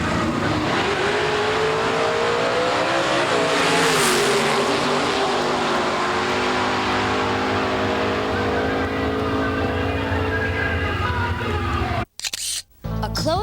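Drag racing cars, including a blue Vega, roar down the strip in a close match race, a loud, sustained engine howl that climbs in pitch as they accelerate, then cuts off abruptly near the end.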